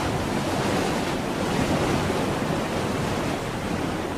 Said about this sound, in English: Water surges into the massive pool.